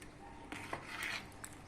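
Oven dishes for rice pudding are set out in a kitchen, with faint clinks and scrapes of dishware, a few light knocks spread over a quiet moment.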